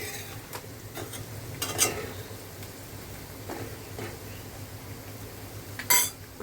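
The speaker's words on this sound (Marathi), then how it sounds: "मसाले मस्त कांदा आपला परतून घेऊया तेलामध्ये" Onion and spices frying in oil in a pan for a spicy mackerel curry, a steady low sizzle with a few sharp scrapes and clinks of a spoon against the pan, loudest near the end.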